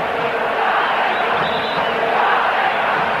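Massive football stadium crowd roaring and cheering continuously during the 1990 Brazil versus Bulgaria friendly match, a dense, steady wall of voices with no breaks.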